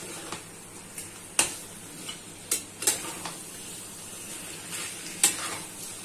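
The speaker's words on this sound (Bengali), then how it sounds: "খানিকক্ষণ ধরে কষাতে হবে। ফ্লেমটা হাই করে দিলাম।" Spiced chicken masala for a Kashmiri chicken kanti is stir-fried over a high flame: a soft, steady sizzle runs throughout, broken by sharp scrapes and clinks as a spatula works the pan. No one speaks.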